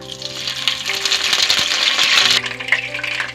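Curry leaves tempered in hot oil give a loud, steady bright sizzle and crackle throughout, with a brief dip and flare partway as the leaves settle, no talk.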